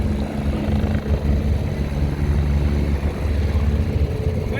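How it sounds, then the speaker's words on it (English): A helicopter's rumbling rotor and engine drone fills the clip continuously, loud and close with a steady low thrum, on the Outer Hebrides islands heading for St Kilda. "Chopper going. Chopper coming behind us."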